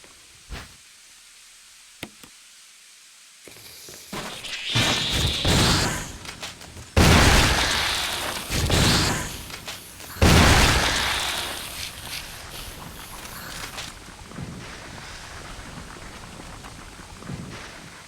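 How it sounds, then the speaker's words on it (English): A flash grenade goes off in the Resident Evil Remake (2002) video game, setting off a loud burst with a hissing, roaring wash that swells in several surges and then trails off into a softer rumble. "It's a flash grenade."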